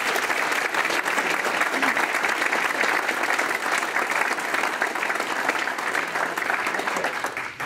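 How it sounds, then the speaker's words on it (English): Audience at a military award ceremony claps in steady, even applause, a continuous crackle of many hands that holds throughout, with no cheering, before tailing off at the end. "Let's give Danielle a big round of applause."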